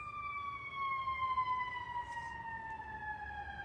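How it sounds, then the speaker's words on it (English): A distant siren wails in a long, slowly falling tone, steady and fairly faint over low background rumble, with no one talking. "there's the siren."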